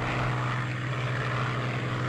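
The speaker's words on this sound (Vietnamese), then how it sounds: "Đây là đội hình 4 chiếc B-17." A formation of four B-17 bombers in the IL-2 1946 flight game, their propeller engines making a steady, loud, continuous drone with a strong low hum and no variation across the stretch.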